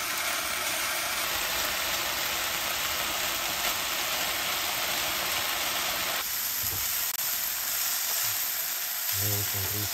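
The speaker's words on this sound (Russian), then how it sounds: "Курицу обжариваем до золотистого цвета и потом добавляем лук." Chicken pieces and onion frying in a pan, a steady close sizzle that runs throughout with the stir of ingredients and no voices.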